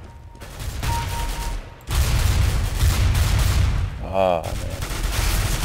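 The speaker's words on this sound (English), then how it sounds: "someone just shot me from behind" Counter-Strike: Global Offensive gunfire rattles in a dense, loud, continuous volley of rapid shots, with a player briefly exclaiming partway through.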